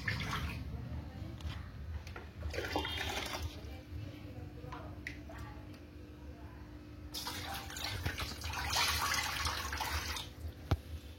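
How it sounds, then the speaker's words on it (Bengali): Water poured into a home-made glass aquarium tank under repair, a steady running splash that swells and fades in bursts over a low background hum, with no one speaking over it. "তো চলো আগে জলটা একটু ঢেলে নিই।"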